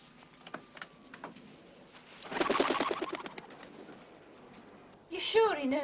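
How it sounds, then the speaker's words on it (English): Pigeons cooing and fluttering in a loft, soft scattered sounds then a busier burst of activity, with a voice speaking near the end. "Now, I'd like to fly my pigeons."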